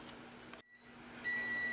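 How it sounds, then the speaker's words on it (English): Kitchen timer going off while Southern buttermilk biscuits bake in cast iron skillets, a steady high electronic tone that sounds alone after a brief silence and holds to the end. "our timer is going off"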